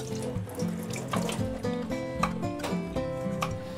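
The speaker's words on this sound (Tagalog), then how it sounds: "hugasan muna po natin yung shrimp, hipon" Tap water runs steadily into a kitchen sink as raw shrimp are washed, a continuous close splashing stream with slight shifts in the flow throughout.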